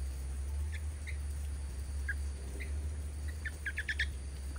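Short high chirps from a pet bird indoors, scattered through the clip and clustering into a quick burst of calls near the end, fairly faint over a steady low household hum.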